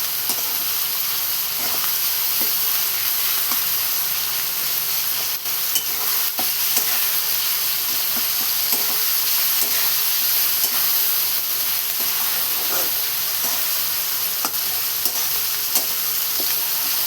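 Onion and tomato with salt fry in a pan under a constant close sizzle and hiss, with soft scraping taps from stirring scattered through it and no voices.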